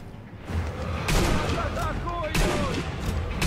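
Rifle shots ring out in the Sniper Elite V2 video game, two sharp loud cracks about a second apart with echoing tails over a rumbling battlefield background.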